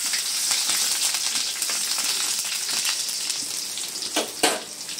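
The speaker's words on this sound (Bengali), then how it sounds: "কড়াইতে তেল দিয়ে দিয়েছি, তেল গরম হয়ে গেছে। এখন এর মধ্যে দিয়ে দিলাম প্রথমে রসুন।" Whole garlic cloves frying in hot oil in a wok, a loud, close, continuous sizzle with crackling pops and a couple of sharper spits near the end.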